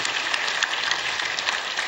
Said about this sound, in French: Ça mérite des applaudissements, mesdames et messieurs.